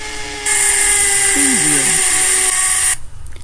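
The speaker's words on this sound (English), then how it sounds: "Here a man is drilling in the wall by using drill machine." A high-pitched power drill drilling into a wall whines steadily for a couple of seconds, loud and close, then cuts off abruptly.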